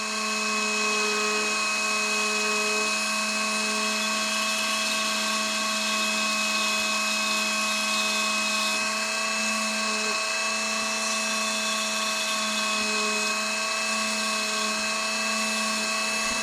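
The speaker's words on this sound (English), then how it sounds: "Light pressure, let the Dremel do the work." A Dremel rotary tool spins against a hand-held file to shape a small model ship part, a high steady whine that runs continuously and close, its pitch shifting slightly with light pressure.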